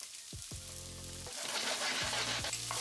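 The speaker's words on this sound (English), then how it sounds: "I put olive oil again and add zucchini. I stir fry it and sprinkle a pinch of salt." Zucchini stir-frying in olive oil in a pan, a steady close sizzle with short clattering bursts of stirring, alone with no talk.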